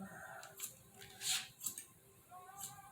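Scissors snip through hair during a haircut, a few quiet, close, crisp cuts at irregular intervals with soft handling noise between them.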